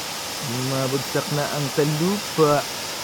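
The waterfall at Sipa Falls in Quezon Province makes a steady, even rush that runs under someone speaking throughout.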